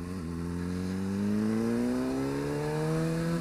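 A Honda CBR motorcycle engine hums steadily while riding, its pitch rising smoothly as it accelerates, close and continuous with no talk.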